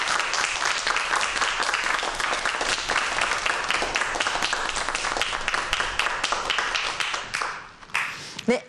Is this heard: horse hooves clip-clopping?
no